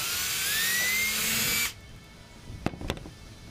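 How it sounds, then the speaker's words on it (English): A power drill whines loudly and steadily, rising slightly in pitch, then stops, followed by a couple of faint knocks, while drilling a mounting hole for a Humminbird PiranhaMax 4di fish finder on an Ozark Trail Pro Angler 12 kayak. "I'm going to drill one hole."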